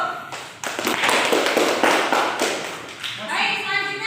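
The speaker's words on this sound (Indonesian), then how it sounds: "kita beri aplaus dulu" Classroom applause in a school teaching session, a burst of clapping hands lasting a few seconds, loud and close, with a voice speaking over it at the end.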